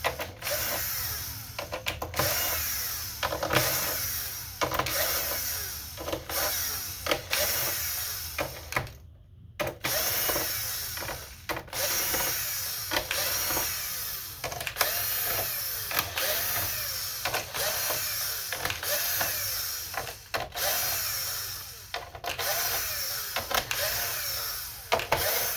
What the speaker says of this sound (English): Now we're gonna take our T9 bit again and take out all the screws for the aluminum cover.